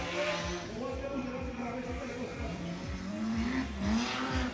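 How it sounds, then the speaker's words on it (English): A 680-horsepower drift car with an S54 engine heats its tires at a drift event start line, its engine revving in repeated rising and falling bursts against a steady roar, with a commentator talking over it. "680 horsepower for Sergio as he goes up to the start line and heats up his tires"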